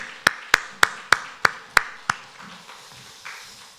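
Congregation at a Sunday morning church service clapping, heard as about seven sharp, evenly spaced claps in a slow rhythm that fade to softer scattered claps.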